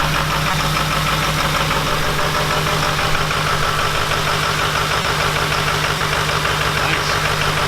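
A crew cab truck engine idles rough from at least two or three bad injectors, a steady close knocking rumble with uneven pulsing that runs on continuously without pause.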